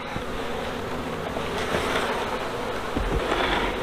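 Honey bees swarm around an open hive during an inspection, a dense, loud, continuous buzz with a few soft knocks from handling frames.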